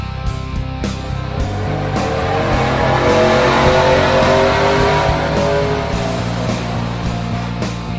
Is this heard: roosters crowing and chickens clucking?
no